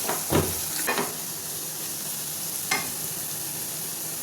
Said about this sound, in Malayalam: അതും കൂടെ ഒന്ന് വഴറ്റുക കുറച്ച് നേരം.